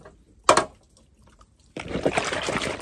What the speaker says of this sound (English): rinse off these things again, because I washed them already